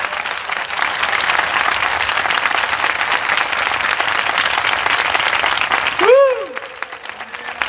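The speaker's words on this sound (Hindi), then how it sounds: "आइए यीशु के लिए जोरदार ताली बजाएंगे।" A church congregation claps loudly for Jesus in a dense, continuous burst of applause that cuts off abruptly near the end, leaving a brief quieter tail.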